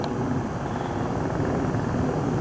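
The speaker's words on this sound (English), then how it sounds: "Helicopter's coming too again. For the second time already, I can hear it." A helicopter flies overhead at night, a steady low rumbling drone that holds constant and fairly loud for the whole stretch.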